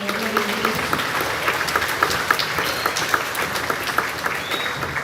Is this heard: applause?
yes